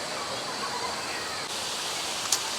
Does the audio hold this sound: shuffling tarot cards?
no